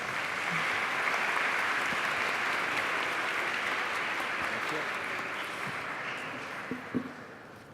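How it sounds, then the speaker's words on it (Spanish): Sustained audience applause fills a round-table conference hall at the former National Congress, loud and dense at first, then slowly thinning, with a few stray claps near the end. "Le damos un fuerte aplauso a Rafael Sagredo."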